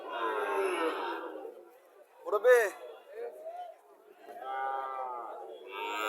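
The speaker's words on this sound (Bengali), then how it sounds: "সাইওয়াল বাছুর দেখা যাচ্ছে, লম্বা জোরে আছে বাছুরটা।" Sahiwal calves at a livestock market, with a short loud moo in the middle amid nearby talking voices and market chatter.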